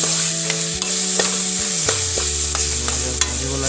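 Chicken leg pieces fry in oil and are stirred in a pan: a loud, steady sizzle close by, broken by scraping strokes roughly every half second, over sustained tones that sound like background music.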